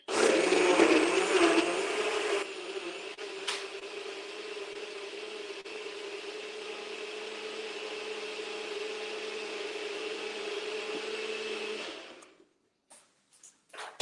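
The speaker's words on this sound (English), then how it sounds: "We're going to do a little blender dance here." A kitchen blender mixing a vegan watermelon, feta and kale salad ingredient runs loud and steady for about twelve seconds, with a harsher start easing into an even whir, then cuts off.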